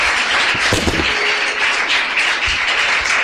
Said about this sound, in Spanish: 18 años casado, un aplauso